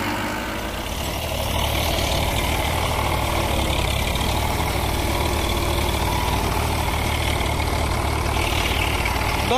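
A tractor engine pulling a cultivator drones heavily and continuously at close range, rising slightly in intensity as it labours, loud and steady with no break.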